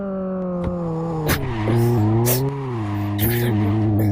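Simulated Formula 1 car engine from the VR racing game Formula X, a loud revving whine that dips and climbs as the driver brakes hard into a corner, with sharp clicks and a voice talking over it.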